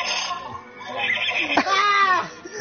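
A horse whinnies loudly, a rising then wavering neigh lasting over a second, following a stretch of muffled background noise.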